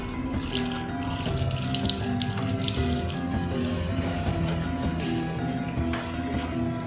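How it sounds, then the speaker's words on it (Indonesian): Water and detergent spray across a car engine bay being cleaned of mouse droppings and stains, a steady close hiss of running water with soft splashing and dripping throughout, no talking. "setelah itu saya akan cuci dengan bahan deterjen ataupun sampo ya guys"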